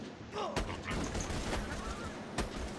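Gunfire in Borderlands 2 aimed at a robot enemy, with sharp broadband shots near the start and again near the end over a dense, busy game soundscape.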